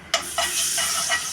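Cumin seeds, turmeric, pav bhaji masala and red chilli powder hit hot oil for tempering, giving a bright, sharp sizzle that flares in short bursts and settles into a steady close hiss.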